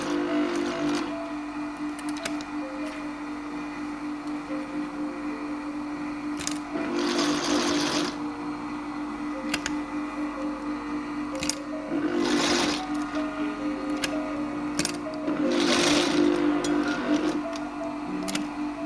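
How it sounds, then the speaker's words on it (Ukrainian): A sewing machine stitches fabric, pile side up, in a steady mechanical whir, with three louder bursts of stitching spaced through a long, continuous run. "ворсистою стороною наверх і теж настрочуємо."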